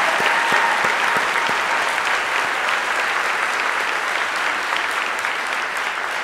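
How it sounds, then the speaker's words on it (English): Room audience gives a round of applause for pitch-competition semifinalists, a dense, steady clapping that fills the space from start to finish at an even, fairly loud level. "A round of applause for them."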